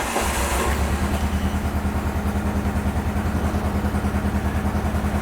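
An engine idles steadily just after a cold start on a January morning, a loud, close, even pulsing chug with a slightly high idle that runs on without a break.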